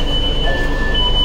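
Metro train at a metro station, a loud, steady mechanical hum with thin tonal whines, brief and unbroken, with no voices.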